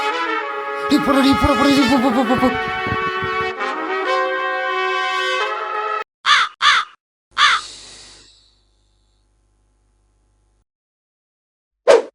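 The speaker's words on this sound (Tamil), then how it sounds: "சரி, இந்த காக்கா வேற." A crow caws repeatedly and loudly, several harsh calls in a row, then a few shorter caws after a pause, with one more call at the end.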